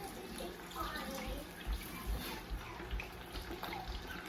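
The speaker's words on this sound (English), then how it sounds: "All right, and you hear that? We're frying up nice." Tofu frying in hot oil for a garlic soy glaze dish, a steady, moderate sizzling hiss with faint bubbling pops running throughout.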